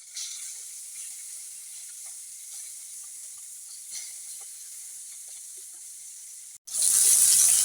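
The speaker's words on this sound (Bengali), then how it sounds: "এক পাশ ভাজা হয়ে গেছে, এখন উল্টিয়ে নিচ্ছি" Spiced fish frying in oil and being flipped to its other side: a quiet, steady sizzling hiss that continues alone, then a brief gap before a much louder burst of sizzle at the end.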